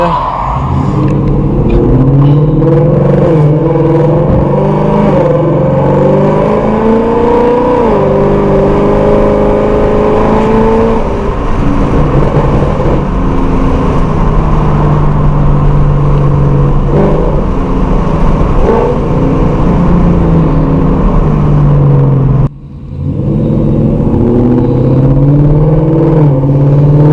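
A 5.0 V8 car engine revs hard through repeated harsh downshifts, heard close from inside during a drive, with rising and falling engine pitch, loud and continuous, and a brief cut near the end.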